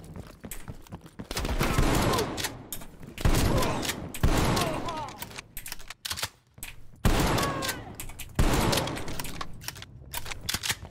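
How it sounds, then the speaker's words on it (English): Gunfire in the video game Call of Duty Cold War campaign comes in repeated heavy bursts of rapid shots, separated by brief lulls, loud and dense throughout. "We're pinned down."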